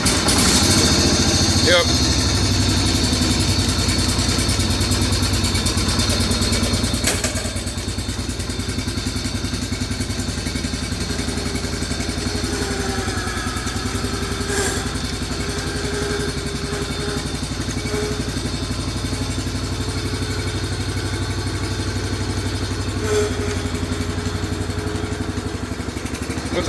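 Engine idles with a steady clattering run, cold-started after a basic tune-up, loud and close throughout; a brief spoken word and some voices sit under it.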